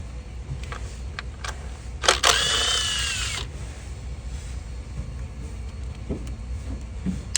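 A power drill whirs in a burst of about a second and a half while removing 10mm bolts from a Mitsubishi Eclipse during a spark plug job, with soft clicks and clanks of tools and parts before and after; no talking.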